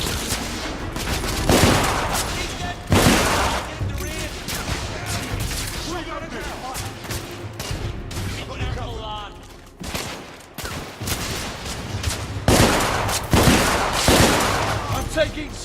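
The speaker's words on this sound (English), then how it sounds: "I'm taking suppressing fire!" Rapid suppressing gunfire in the video game The Order: 1886, with sustained bursts of shots across the whole stretch and louder volleys near the start and end, mixed with shouted voices.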